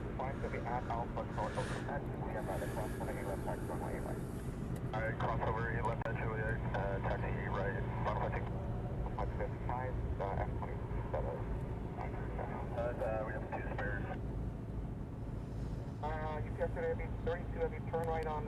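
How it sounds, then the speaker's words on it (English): Hawaiian Airlines jet heading out of Honolulu airport, a steady, distant engine roar running throughout under almost continuous talk. "So the Hawaiian is Hawaiian Flight 6 heading off to Vegas."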